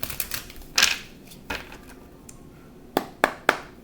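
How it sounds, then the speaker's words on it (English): Tarot cards being shuffled, with a few crisp riffling bursts and sharp card slaps coming in quick groups, close and fairly loud, with no talk. "All right, one more shuffle, and we're going to clarify this Lovers card."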